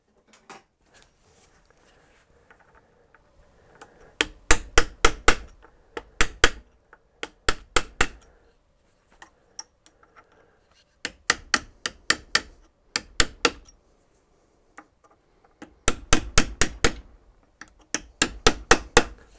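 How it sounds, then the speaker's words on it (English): A punch tapping over a tab washer on a BSA B31/B32/B33/B34 motorcycle gearbox, sharp metallic hammer taps in quick bursts of several blows, separated by short pauses, close and clear with no talk. "just tap the tab washer over"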